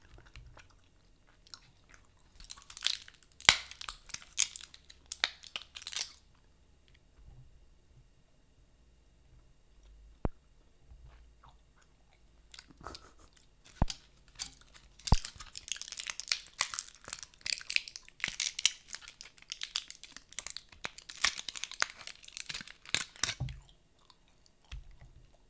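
Korean teddy bear bubble gum, orange flavoured, is chewed close up in bursts of wet, sticky chewing and sharp snaps, separated by quiet pauses, with no talk.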